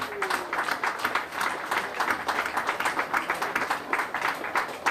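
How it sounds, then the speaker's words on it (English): Audience applause at an addiction rally, a dense steady patter of many hands clapping that carries evenly throughout with no pauses. "he deserves a round of applause"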